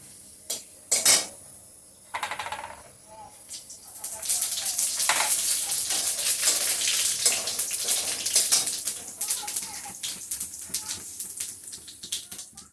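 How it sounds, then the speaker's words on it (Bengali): Whole cumin seeds frying in hot oil alongside dried red chillies, bay leaves, cardamom, cinnamon, cloves and peppercorns, a close crackling sizzle with clinks of a spoon against the pan, building and continuing throughout without talk. "জিরেটা ভাজা হয়ে গেল।"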